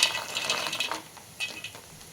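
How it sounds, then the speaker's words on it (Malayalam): Dry soybeans tipped into a pot of boiled hot water, a quick splashing pour up front then a second short plop and trickle, close and fairly quiet with no talk. "ഈ ചൂട് വെള്ളത്തിലോട്ട് ഞാൻ ഈ സോയാബീൻസ് അങ്ങോട്ട് ഇട്ട് കൊടുക്കുക"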